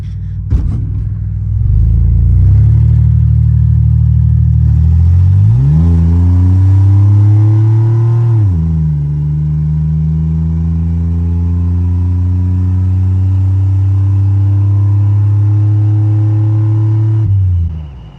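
An LS-swapped OBS truck's V8 rumbles loudly up close, rising in pitch as it pulls through gears with a short break between climbs, then holds a steady deep drone before cutting off.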